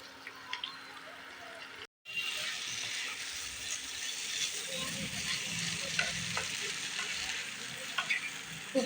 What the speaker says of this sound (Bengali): খুব ভালো করে সমস্ত মশলা একটু কষিয়ে নেব।